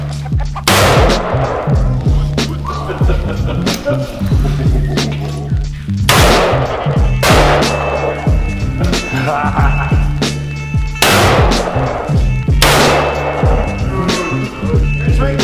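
Loud, sharp revolver gunshots crack at a slow, irregular pace, about one every couple of seconds, each ringing out briefly over steady background rumble, at a tactical shooting centre.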